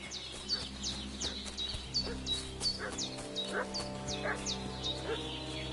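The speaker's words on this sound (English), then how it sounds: "What's that dog making such a fuss about?" A dog in the game Kingdom Come: Deliverance II barks repeatedly in a steady, agitated rhythm, each sharp yelp rising over a low ambient hum and background tones, at moderate distance.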